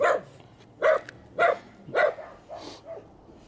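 A dog barks five times in an even rhythm near a house roof, each bark sharp and fairly close, with the last one softer.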